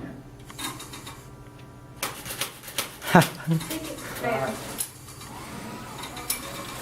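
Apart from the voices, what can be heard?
clicking of robot servo with broken gear tooth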